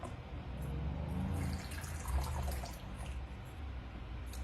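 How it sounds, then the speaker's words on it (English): Freshly brewed Dragon Well green tea is poured into small cups, a continuous close trickle and splash of liquid lasting several seconds with no talk. "We'll pour it into the cups here"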